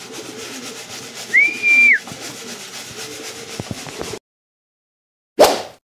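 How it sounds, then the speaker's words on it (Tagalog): Racing pigeons arrive home at a loft in the rain, with soft cooing, a brief whistle and fluttering over a steady wet background. The sound then drops out suddenly, followed by one short burst of noise. "Basa yung mga ibon natin, dumating."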